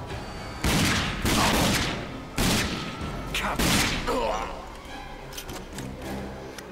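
Gunfire in the first-person shooter game Rage on PC, several loud booming shots and bursts in quick succession, echoing, then quieter fire and clatter trailing off.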